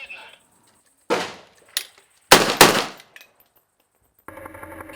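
An automatic grenade launcher crew fires on a wooded treeline, sending several sharp, loud bursts in short groups separated by pauses, with a scratchy mechanical rattle near the end.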